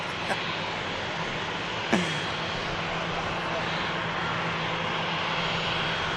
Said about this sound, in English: 2XL just about to taxi past.